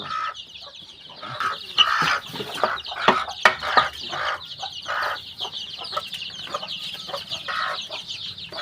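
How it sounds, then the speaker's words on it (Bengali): Young chickens about two months old clucking in a steady run of repeated calls, close and fairly loud, with no talking. "এদিকে আছে এই মুরগি বাচ্চাগুলো"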